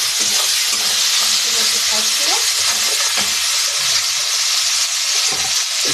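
Ginger paste frying in a pan with salt and turmeric for a Malabar spinach dish, a loud continuous hiss and sizzle with occasional spatula scrapes, close and with no talking.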